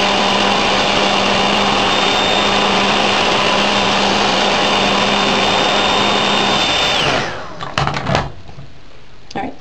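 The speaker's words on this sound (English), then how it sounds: "Let me blow dry it." Hair blow dryer running steadily on a glued quick-weave wig cap, a loud continuous airy whir with a high whine that cuts off about seven seconds in, followed by a few handling knocks and rustles.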